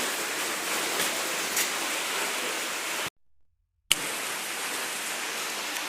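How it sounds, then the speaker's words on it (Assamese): Heavy rain pours down in a steady, dense hiss that fills the scene, broken by a brief near-silent gap partway through before the downpour resumes just as strong. "বৰষুণ ডাঙৰকৈ আহিছে অকণমান"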